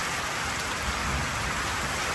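Heavy rain pours down in a tropical storm, a dense, steady hiss of drops drumming on surfaces, loud and unbroken throughout, with no voices.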